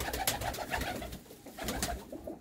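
Pigeons at a loft coo in a steady, close-up stream of soft, throaty, repeated calls, with no talking.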